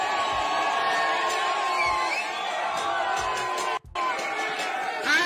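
A large audience shouts in unison, a dense, loud roar of chanting voices that briefly drops out before the crowd noise resumes.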